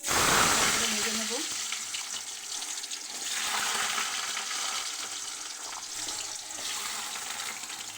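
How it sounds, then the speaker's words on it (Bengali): Potatoes for ghugni sizzle and crackle in hot oil in a pan, a loud burst at first settling into a steady frying hiss with occasional stirring. "আলুটা ভাজা হোক।"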